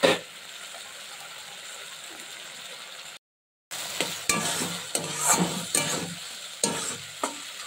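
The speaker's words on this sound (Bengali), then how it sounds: "এবারে আমি সেই যে সসটা, চিলি সস, সোয়া সস আর টমেটো সমস্ত সস দিয়ে এবারে একটুখানি নেড়ে নেব এইভাবে" Vegetables being stirred in a hot pan with chili, soy and tomato sauces, a steady sizzle under scraping spatula strokes, with several distinct stirring scrapes in the second half after a brief gap.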